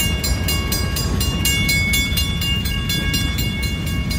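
Train passing close by, a loud continuous roar with rhythmic clacking of wheels over rail joints and a sustained tonal ring.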